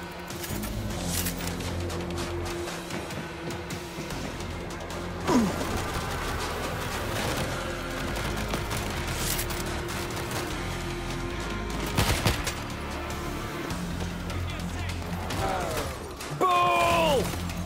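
Stationary machine gun set up and firing in the World War Z: Aftermath Moscow level, a steady dense rattle of rapid bursts mixed with game clatter, crashes and occasional whooshing effects throughout.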